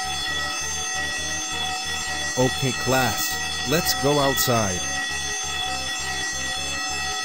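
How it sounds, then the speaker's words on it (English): A fire alarm sounds in a classroom with a steady, pulsing electronic ring that runs the whole time, while voices talk over it. "Guys, it's a fire alarm."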